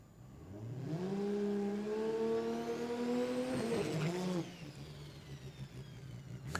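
A drift car's engine revs hard on track, rising and holding high with a brief hopping stutter and tyre noise before it drops away. It is loud and fairly close, with no talk.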